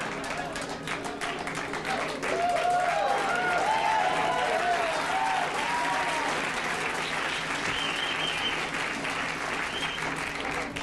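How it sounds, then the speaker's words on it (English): A late-night talk show studio audience applauds and cheers in a loud, sustained wash of clapping with whoops rising over it, continuous throughout. "and the crowd goes wild"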